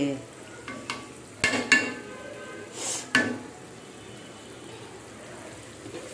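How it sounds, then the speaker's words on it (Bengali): Fish sautéing in a pan for curry, a low steady sizzle of frying under occasional sharp clinks and scrapes of a utensil stirring against the pan. "একদম মাছগুলা এখন কষে ফেলব"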